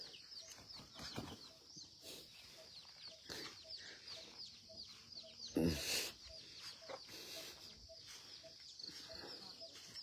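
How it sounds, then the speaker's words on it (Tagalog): Farm chickens cluck and call in short, scattered bursts at moderate distance, with a brief flurry of flapping wings midway and soft rustling between the calls. "Sana yung mga manok."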